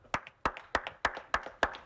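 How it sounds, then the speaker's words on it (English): Slow, deliberate hand claps welcoming a guest, six crisp close claps spaced evenly about a third of a second apart, each followed by a faint softer echo-like clap, with no talk. "Clap it up."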